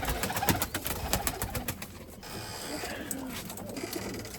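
Limoni breeding pigeons in a loft coo and rustle close by, low throaty calls repeating over soft bird movement and background noise, with no talking.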